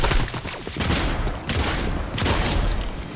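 Bursts of video game gunfire from heisted weapons crack out in rapid volleys, dense and loud throughout, with sharper peaks near the start, middle and later on, and no talk over them.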